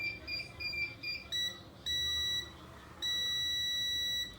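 A multimeter in continuity diode mode beeps while testing a jumped fuse during a Lenovo Yoga 11E laptop backlight repair: a few short chirps, then two longer sustained tones, clear and close.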